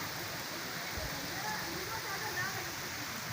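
Rain falls steadily outdoors among green trees, a constant even hiss of drops with a faint voice underneath.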